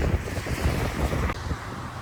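Strong wind gusts roar steadily against the microphone outdoors during a storm on a coastal walk from Mexico to San Francisco, a loud continuous buffeting rumble with no voices.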